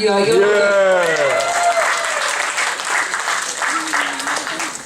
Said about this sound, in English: Clap for the ad break. Clap for the snack break.